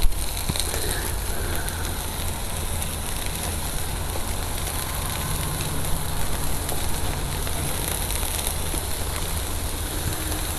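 Onions sizzling steadily on a camping griddle set to low with windscreens attached, a dense continuous crackle and hiss, close and even throughout with no talking.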